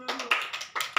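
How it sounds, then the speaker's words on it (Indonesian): A classroom gives a short burst of applause, a few quick irregular claps from several hands, close and fairly loud, ending abruptly after about a second. "Kasih dulu aplaus"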